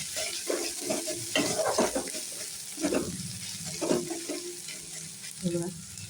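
Fried fish heads reheating in a pan with garlic, ginger and garam masala sizzle steadily, broken by several louder scraping stirs and clatters, close up with no talking.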